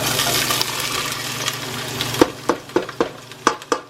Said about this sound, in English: So oil is nice and ready, so I'm going to stick all of the vegetables in at once.